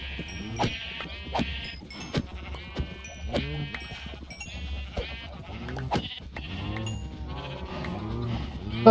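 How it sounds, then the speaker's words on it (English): Sheep in the Minecraft video game bleat repeatedly and loudly, overlapping calls stacking up in a crowded pen, with brief silent gaps between bursts. "I think that's going to be enough sheep for now"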